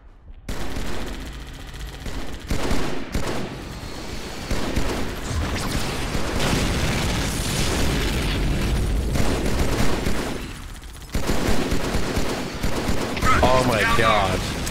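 Rapid automatic gunfire from a Halo 2 battle crackles almost nonstop, with heavy booms mixed in and voices shouting over the din.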